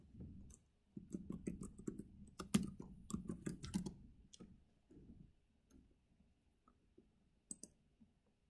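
A computer mouse clicks in quick irregular bursts, sharp dry ticks close up, clustering densely early on and thinning to a few scattered clicks near the end.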